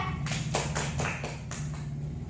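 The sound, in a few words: women clapping hands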